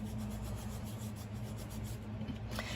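Tim Holtz Distress Crayon rubbed steadily across a craft surface, a continuous close scratchy friction with even strokes and no pauses, alone with a faint background hum.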